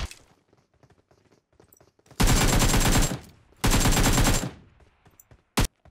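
Rapid bursts of gunfire in PUBG Mobile on the Livik map, two long loud volleys of repeated shots, each around a second, followed by a single short blast near the end.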